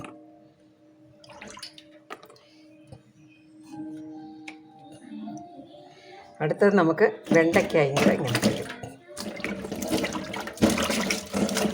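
Vegetables, including okra, being washed in a bowl of water, with loud sloshing and splashing bursts in the second half, a running-water sound, and someone talking over the first part.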